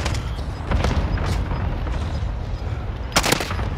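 Gunfire in a multiplayer shooter video game: a few sharp shots around the start, then a tight cluster of loud bursts near the end, over a dense, noisy game background.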